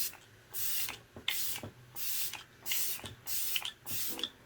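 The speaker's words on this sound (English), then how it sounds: "I got the Stay All Night Microfine Setting Mist from e.l.f." e.l.f. Stay All Night Microfine Setting Mist sprayed from a bottle, five evenly spaced close hissing bursts, each about half a second long, with faint clicks of the pump between them.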